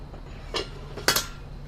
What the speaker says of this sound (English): place a washer and then a shaft collar on the axle on both sides of the wheel